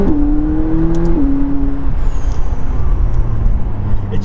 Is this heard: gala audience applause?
no